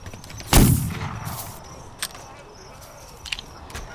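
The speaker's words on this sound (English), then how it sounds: "Oh, he's got a rifle." An enemy's rifle fires in The Mound: Omen, a horror game set in a cursed island jungle. One loud, sharp shot stands out, followed by fainter distant cracks over a buzzing night-insect ambience.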